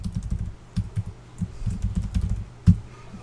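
A password is typed on a computer keyboard, a quick irregular patter of soft, close keystrokes with one heavier thump near the end, no voices present.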